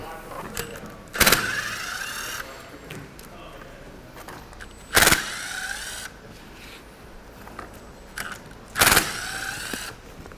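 Bolts being taken out of a Can-Am transmission: three separate loud whirring bursts from a power tool, a few seconds apart, over a low background, close by, with some quiet talking in between.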